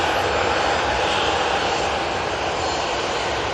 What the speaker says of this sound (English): Right, we've got Ryanair coming on in front of us.